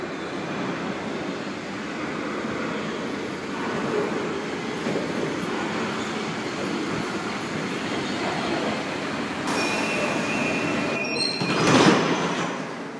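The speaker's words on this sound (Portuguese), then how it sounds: "Aqui tá falando que o metrô já tá chegando." A subway train in Germany rumbles steadily as it pulls into the station, wheels screeching and squealing near the end, loud and close with a constant roar.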